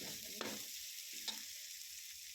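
Cooking oil added to a wok of chicken feet adobo, with a soft constant frying hiss and two brief scraping strokes of stirring, fairly quiet.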